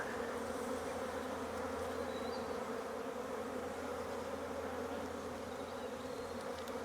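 Honey bees swarm over the brood frames of an open hive with swarm cells, making a dense, continuous buzz close by that holds steady throughout.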